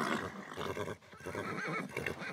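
Racehorses wait with jockeys at the start of a race in the video game Phar Lap, and a horse gives a loud, close neigh with some hoof clatter under a steady crowd-like background wash.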